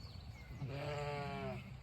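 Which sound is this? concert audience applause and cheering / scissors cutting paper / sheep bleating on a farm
sheep bleating on a farm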